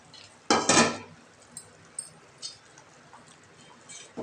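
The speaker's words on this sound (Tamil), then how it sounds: "தாளிச்சதை கொட்டிக்கலாங்க." Hot tempering poured into a pot of curry gives a sudden loud sizzling burst lasting about half a second, followed by a few light metallic clinks of utensils against the pot.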